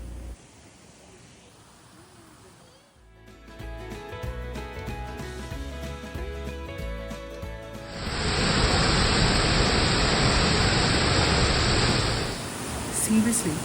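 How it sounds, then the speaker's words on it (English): Rushing water at the Watkins Glen waterfalls, a steady broadband roar that grows louder and fuller partway through, continuous and close with no pauses. "Just listen to the sound of the water,"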